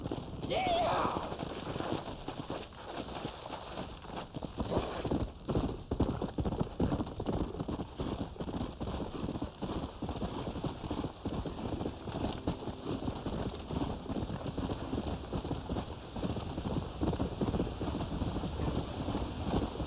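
Hooves clip-clop in a quick, steady galloping rhythm throughout, with a brief whinny near the start, from a horse in Red Dead Redemption.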